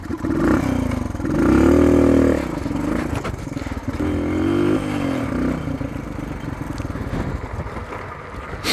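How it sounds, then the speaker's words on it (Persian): A dirt bike's engine idles and revs in a few swelling bursts on a rocky trail, close and loud with a rough, rattling note that drops back between throttle blips. "یک ثانیه من روشن کنم موتور رو."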